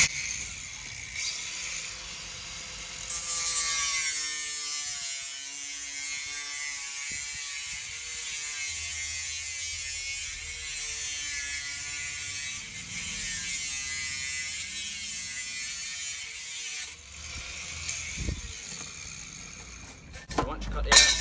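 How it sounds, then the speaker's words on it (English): An angle grinder cutting through a flue pipe, a loud, sustained high-pitched whine and screech that holds steady for most of the run before tapering off, with some talking underneath. "So I'm going to do it with an angle grinder."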